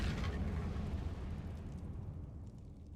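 Incendio fire spell blasting in Hogwarts Legacy on PS5: a loud, sustained, roaring rumble with a crackling burst at the start that holds steady and eases slightly toward the end, with no talk.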